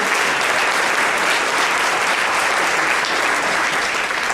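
A conference audience applauds loudly and densely, a continuous close roar of many hands clapping with no gaps, sustained evenly across the short stretch.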